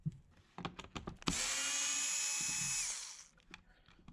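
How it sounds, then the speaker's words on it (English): A screwdriver, likely powered, unscrewing T8 screws from a Dyson V8, V10 or V11 Direct Drive vacuum head gives one loud, steady whir of about a second and a half, with lighter clicks and handling knocks before and after. "let's grab a screwdriver and get to work"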